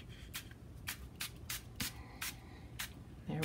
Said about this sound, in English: So this is the ink spray as well.